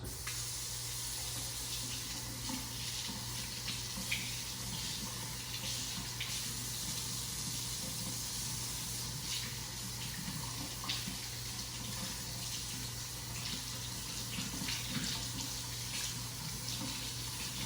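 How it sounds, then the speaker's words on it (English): Cold tap water runs steadily into a sink while pork riblets are rinsed for sinigang soup, a continuous splashing hiss with no pauses and no talking. "We're going to get these washed off really fast."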